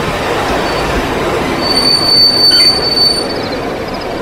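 A train running as a sound effect in an audio drama, a loud continuous rumble of a moving train with a high metallic wheel squeal rising over it midway, steady and close with no speech.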